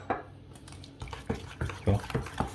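A whisk stirs carrot cake batter in a bowl, giving irregular scraping clinks and wet knocks against the sides, close and moderately loud, in short bursts.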